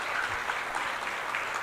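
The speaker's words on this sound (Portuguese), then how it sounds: "Uma salva de palmas para esse menino." Brief burst of dense audience applause for a boy at a lecture, steady and close throughout with no talk over it.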